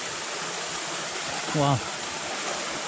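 Rushing water from a waterfall near a village forms a steady broadband roar throughout, with a brief exclamation from a voice partway through.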